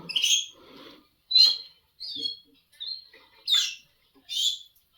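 A young goldfinch hybrid just beginning to sing gives short, separate bright chirps and twittering phrases, about six bursts with pauses between them, close and clear against silence.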